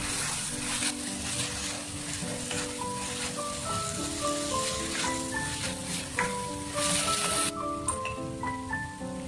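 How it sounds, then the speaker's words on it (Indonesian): Spices and curry leaves sizzle and crackle in hot oil, a constant frying hiss with soft music playing in the background. "lalu kita tumis sampai wangi"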